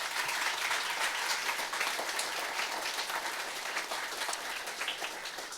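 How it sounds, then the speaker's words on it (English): Sustained audience applause at the 2025 Taejae matriculation ceremony, a dense, even wash of many hands clapping in a hall, steady and moderately loud throughout without speech. "let's show our appreciation with a big round of applause"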